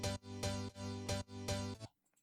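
A Nexus piano with effects playing four rhythmic chord stabs, evenly spaced and close, followed by a fading tail, in a remake.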